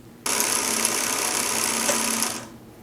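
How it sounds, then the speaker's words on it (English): A Consew 227R-2 industrial sewing machine winds a bobbin: a steady, close, high whirring hum that starts abruptly, runs for about two seconds, then winds down. "take up any slack as you begin to wind the bobbin"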